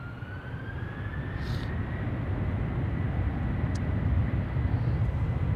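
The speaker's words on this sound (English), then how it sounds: "that's the third 767 from United, which will be taking off shortly" A United Boeing 767 departing Amsterdam Schiphol, its broad engine roar steady and fairly close, with a thin rising whine drawing across the sound as it powers up for takeoff.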